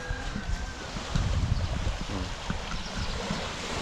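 Sea waves wash right below a seaside retaining wall, a broad steady roar of surf mixed with wind buffeting the microphone, no speech.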